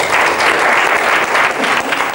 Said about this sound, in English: I hope you can give him a clap for that.